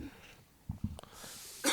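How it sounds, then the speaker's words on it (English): A single short, muffled cough from a podcast host sounds close to the microphone, followed by a brief breathy rustle, with a quiet room and no talking. "Had a cough."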